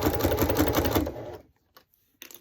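A domestic sewing machine embroidering a thick fringe bag runs in a fast, steady mechanical chatter for about a second and a half, then stops, leaving quiet with a couple of faint clicks.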